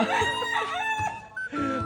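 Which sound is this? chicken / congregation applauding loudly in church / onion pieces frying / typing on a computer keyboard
chicken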